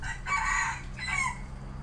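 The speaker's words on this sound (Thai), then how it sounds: "รีสอร์ทเขามี ไก่แจ้เลยนะ มันก็มาขันอยู่ข้างผมนะครับ" A bantam rooster crows at a resort in Chanthaburi, two rough, hoarse crowing bursts close by over a steady low background rumble, with no talking.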